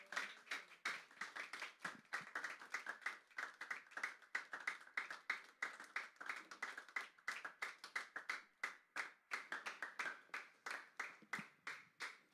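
A church congregation claps hands together during a worship service, producing a steady, rhythmic run of sharp claps that continues throughout and sounds fairly faint.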